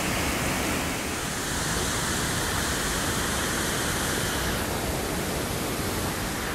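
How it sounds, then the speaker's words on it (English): A waterfall near a natural spring on a hiking trail gives off a constant broadband roar of rushing water, even and unbroken for the whole stretch. "Right around there is the waterfall."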